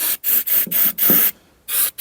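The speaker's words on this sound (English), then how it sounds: "I'm gonna squirt a bit of more fluid in there." Short bursts of a spray nozzle hissing as fluid is sprayed into the carburettor of a neglected 1972 Triumph 2000 Mk2, four quick squirts in a row, then a pause and one more spray, close and loud.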